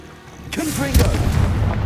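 A Confringo fire spell in Hogwarts Legacy bursts with a sudden loud boom, followed by a rumbling, crackling blast that keeps going to the end, with a shouted voice over the start.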